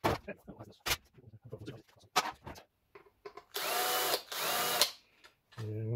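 Power screwdriver driving out screws from an old computer monitor being scrapped, heard as two loud sustained whirring bursts, with talk and handling clatter before them.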